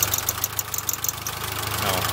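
A rough, uneven engine idle from a Mitsubishi Galant VR-4 under repair, with a low steady drone and irregular knocking, close by, with faint rattling from the hood prop above it.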